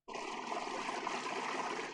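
Running water in the Scottish countryside on the Isle of Skye, a steady rushing stream heard close and continuous, starting abruptly and holding even with no voices.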